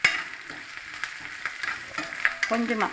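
Mustard seeds, cumin, green chili, onion and moong dal fry in hot oil as a tempering for a cabbage poriyal. A steady crackling sizzle runs under scattered stirring scrapes, and a voice speaks briefly.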